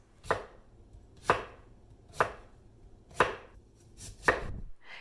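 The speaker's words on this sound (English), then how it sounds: "Here I'm cutting one of the turnip in fat fry size" A knife chops turnip into fat fry-size pieces on a board, five firm, evenly spaced strokes about a second apart, close and clear with no talking.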